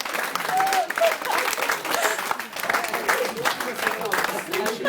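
Applause from guests at a 30th birthday party speech fills the room, a dense steady patter of clapping lasting throughout, with some voices and cheers mixed in.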